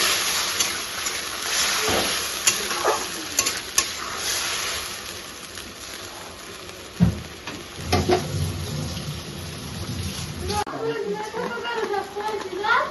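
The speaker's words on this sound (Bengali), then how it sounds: "আলুগুলো লাল করে ভাজা হয়ে গেছে এবার মশলাটা ছেড়ে দেবো জিরে আদা লঙ্কা টমেটো পেস্ট" Potatoes frying in a pan with cumin, ginger, chilli and tomato paste, a steady sizzle with stirring clatter in a home kitchen, over which a voice talks.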